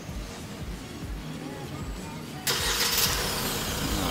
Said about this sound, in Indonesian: Maka mesin akan menyala.